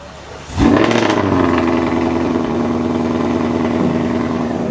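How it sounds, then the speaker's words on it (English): A car's engine cold-starts at a cars-and-coffee meet in New Caney: a brief crank, then a sharp catch and flare, settling into a loud, rough, steady idle heard close from behind the car. "let me give this thing a cold start. From back here, man, this thing sounds crazy right now."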